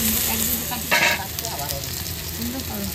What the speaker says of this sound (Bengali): মশলা কষানো হয়ে গেছে, ভেজে রাখা আলুগুলো দিয়ে দেবো।